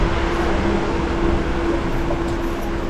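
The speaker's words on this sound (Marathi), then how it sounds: "रेल्वे स्टेशनला गाडी आली" The Tutari Express pulls into Khed railway station in the early morning with light rain falling, a steady low rumble and hum of the train, close and continuous with no talking.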